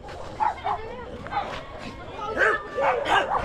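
Several dogs bark and yip in a cluster of short, overlapping bursts, fairly close, with people talking faintly in the background.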